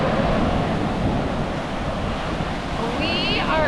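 Waves and wind at Orient Beach on the French side of St. Maarten, a continuous loud wash of surf with gusty microphone wind noise throughout.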